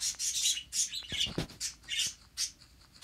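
Pet birds squawk and chirp loudly indoors in a room, a dense run of sharp, repeated calls close by with no talking.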